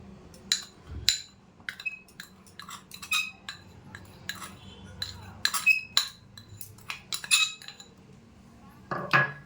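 A metal spoon clinks and taps against a bowl while powdered sugar is added for biscuit dough, a series of bright, irregular close-up chinks with quiet gaps between.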